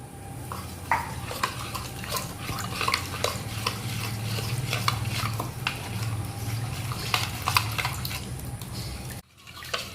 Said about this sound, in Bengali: মশলাটা গুলে নিচ্ছি ভালো করে